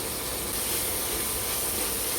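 Tomatoes sautéing with a pinch of salt in a pan for a Kongu-style arisi paruppu sadam, giving a steady close hiss that stays even and unbroken throughout.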